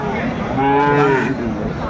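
A cow or calf gives a single loud, close moo at a busy cattle market, the drawn-out call rising and falling over a low background of crowd noise.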